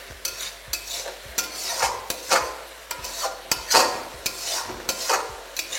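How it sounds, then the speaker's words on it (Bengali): Ginger paste frying in a pan over a medium-high flame for chicken curry, stirred with a utensil: loud, close scraping strokes in a quick irregular rhythm over a steady sizzle, with no voices. "তারপর এটাকে ভালো করে একবার মিশিয়ে নিন আর ততক্ষণ কুক করুন যতক্ষণ না আদার কাঁচা গন্ধটা চলে যাচ্ছে"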